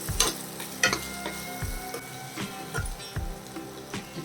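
Egg fried rice is stirred in a hot pan, with a spatula scraping and tapping the metal in a steady, repeated rhythm over a continuous close sizzle.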